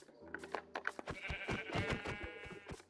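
Sheep bleat in the Minecraft video game, a few wavering, nasal game-animal cries in quick succession, close and clear with no talking over them.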